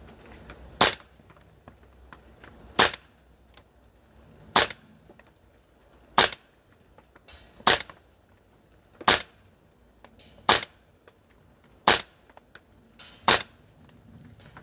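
A Guns Modify 416 MWS gas blowback airsoft rifle fires about ten single shots at a steady measured pace on an outdoor range, each a sharp loud crack with a short mechanical snap, evenly spaced over quiet background.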